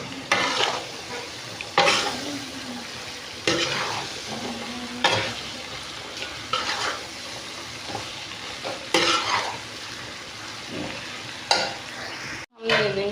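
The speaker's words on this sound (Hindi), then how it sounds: "हम इसमें शामिल कर देंगे भिंडी, तो अच्छे से हम मिक्स कर लेंगे।" Okra frying in a pan spiced with ground red chilli, a loud continuous sizzle broken by regular scraping stirs every second or two, close up, with no talk.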